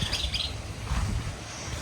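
A brief burst of bird chirps over steady outdoor background noise, fairly faint and short.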